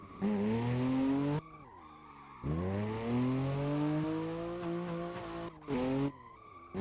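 A BMW E92 drifting on an open road in Assetto Corsa, its tires squealing in long, wavering, pitch-sliding screeches that break off briefly and resume, loud and continuous over the engine.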